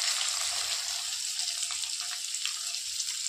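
Curry leaves and onion crackle as they hit hot oil already seasoned with cumin, giving a bright, steady sizzle with small pops, close by and fairly quiet, with no talking.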